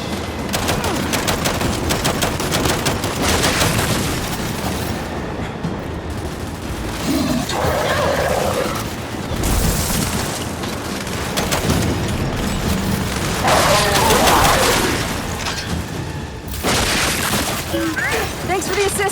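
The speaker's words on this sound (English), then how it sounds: "Come on, that turret's ripping it up!" Heavy turret gunfire in the Gears 5 campaign: dense sustained automatic bursts and booming impacts fill the whole stretch, loud and close, with shouted voices over the shooting.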